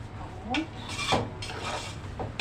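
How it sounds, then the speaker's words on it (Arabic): A spoon scrapes and stirs rice being sautéed in a pot for stuffed cabbage, giving a few short rasping strokes close by over a low background hum. "نفضل نقلب كده في ايه في الرز بتاعنا نشوحه"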